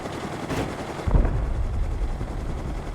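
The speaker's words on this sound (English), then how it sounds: "all we gotta do now is just land our heli right here." Helicopter landing in the video game Rust: a loud rotor thump and engine rumble swell up after a short whoosh, continuing steadily with no talk.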